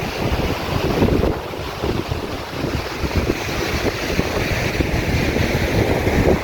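Strong wind at a beach buffets the microphone with constant roaring gusts, while waves wash in the background; no one speaks.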